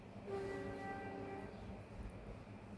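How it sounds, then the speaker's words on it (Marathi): A train rumbles past at a moderate distance near a house, with a sustained horn-like tone early on over low, continuous rolling noise. "ट्रेनचा रूट आहे आमच्या घराजवळ तर त्यामुळं खूप आवाज येतो घरामध्ये"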